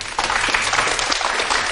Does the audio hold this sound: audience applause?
yes